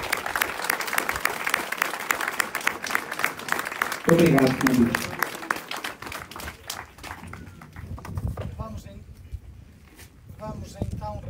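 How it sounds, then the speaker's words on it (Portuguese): A church congregation applauds at a blessing ceremony led by a bishop, dense clapping filling the first half before tapering off as a voice speaks over the quieter room. "uma salva de palmas para a protagonista dessa história"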